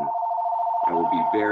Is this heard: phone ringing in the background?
yes